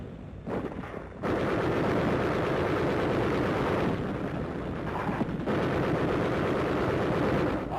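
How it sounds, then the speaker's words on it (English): Machine guns fire during the World War II Battle of Okinawa, a dense, loud barrage that dips into a brief lull near the start, then pounds on almost without a break. "Machine guns cover a section of the advance as troops work their way to the top of a nearby ridge flanking Zebra Hill."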